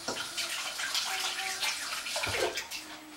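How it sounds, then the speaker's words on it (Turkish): Hands being washed under running tap water in a kitchen, a steady splashing stream with brief shifts as the hands move through the flow, close and quiet with no talk. "Ve şimdi ellerimi hemen yıkayayım."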